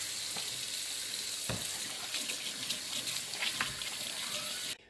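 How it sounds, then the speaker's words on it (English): Water runs steadily from a kitchen tap while hands are washed beneath it, a faint continuous hiss and splash with a few small knocks, ending abruptly as the flow stops. "I need to wash my hands"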